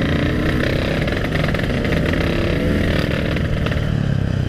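Yamaha RX King two-stroke motorcycle engine running steadily and loudly, a constant rough, rattling drone close by throughout, with no talk over it.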